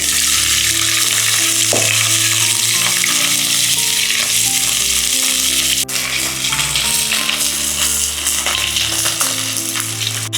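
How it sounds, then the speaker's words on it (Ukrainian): Shrimp fry in avocado oil for Thai shrimp fried rice, a loud, close, unbroken hiss of sizzling that runs throughout, with faint stirring and no talking. "Обсмажувати буду все на олії авокадо. Спочатку обсмажую креветки."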